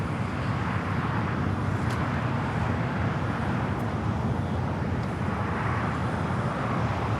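Boeing 747-8 of Amiri Flight 1 taking off from runway 25 left at Los Angeles airport, a steady broad jet roar that stays loud and even throughout, distant-sounding with no talking over it.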